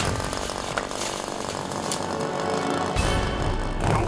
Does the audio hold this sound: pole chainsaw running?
yes